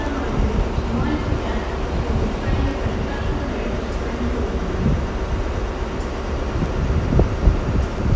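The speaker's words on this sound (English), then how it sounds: "coming in now will be a Great Eastern Railway service to Exeter" A Great Eastern Railway train arriving at Exeter St David's station, a steady loud rumble of wheels and engine throughout with rail clatter and faint squeals, and people talking in the background.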